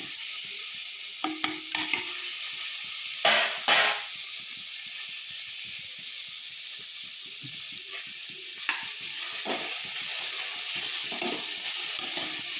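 Onion and tomato fry in a pan for Malnad-style chicken sambar, a steady bright sizzle broken by a few louder scraping stirs and clatters, close by with no speech over it.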